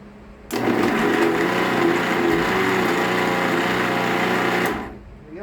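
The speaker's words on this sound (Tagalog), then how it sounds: "I-off nyo po ito, saka nyo siya i-blend ng on." A heavy duty blender whirs loudly as it blends an avocado shake, switching on abruptly and running at a steady high-pitched drone for about four seconds before cutting off, with faint talk around it.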